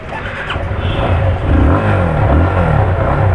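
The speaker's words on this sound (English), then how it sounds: "as you can see, it's a very grunty exhaust note." A Yamaha FZ-S 25 BS-6 250 cc motorcycle engine and exhaust rev with a grunty, low-pitched note, rising and falling steadily up close with no talk over it.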